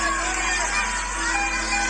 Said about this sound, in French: le public commence à l'applaudir